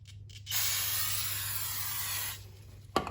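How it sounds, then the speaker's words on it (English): Carbon choke cleaner sprayed from an aerosol can onto the oily braking surface of a new rear brake rotor on a Honda Civic, one steady close hiss lasting about two seconds, then a short sharp clack. "Just go ahead and spray a little cleaner on there and wipe that off."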